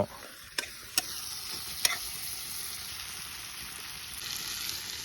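Local chicken meat frying in a pan with a little water added, a soft steady sizzle with a few sharp taps of the stirring utensil early on, fairly faint and without talk.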